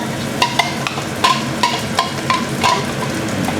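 Garlic sautéing in a hot pan for ginisang ampalaya with pork, a loud steady sizzle broken by scraping stirs and light clinks of a utensil, no talking.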